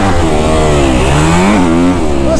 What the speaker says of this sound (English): that KX motor just absolutely bark up top